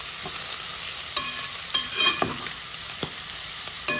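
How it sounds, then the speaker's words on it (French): Onions browning in a hot pan for a ham rougail give off a steady, close sizzle, broken now and then by sharp clinks and scrapes of stirring. "Là, laisse les oignons roussir."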